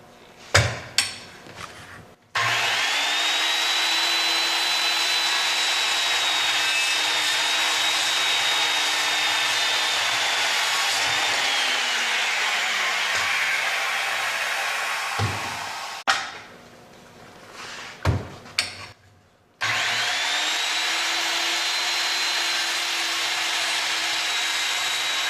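A power saw cuts the tail of a wooden hip rafter, a loud, steady whining buzz held for long stretches and broken by a short pause with clunks and taps before the cutting resumes.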